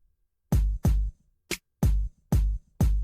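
A drum pattern of six hits in a steady rhythm programmed in FL Studio, punchy low kicks with one sharper, higher snare hit on the second beat, alone and clear.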